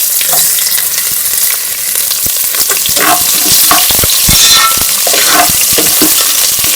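Onions and bay leaf frying in oil for tomato rice, a steady loud sizzle with a spatula stirring and scraping the pan, close and continuous with no voices.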